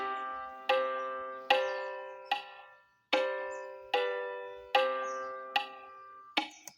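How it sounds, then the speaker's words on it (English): MuseScore notation playback of a short melody, sounding as a series of clear, bell-like pitched notes with sharp attacks and gradual decays, played alone with no talking. "Our melody sounds like this."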